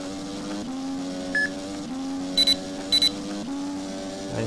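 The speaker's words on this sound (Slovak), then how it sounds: "Tak prvé pip pip je to, že môžem použiť DRS." In the racing game rFactor, a DRS-available alert sounds as two quick double beeps over the steady drone of a race car engine, which rises in pitch and drops with each gear change.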